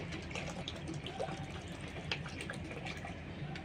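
Water is poured into a packet of milk in a cooking pan for kheer malai, giving a faint, steady trickling splash close by with no talking.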